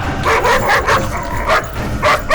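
A pet dog gives several loud, close barks and yips in quick succession indoors, a few seconds of steady barking.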